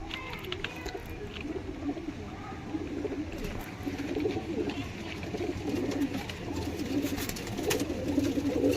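Pigeons, Jacobin and other show breeds at a pigeon sale, coo continuously in low, overlapping murmurs, several birds nearby, with light rustling and background noise.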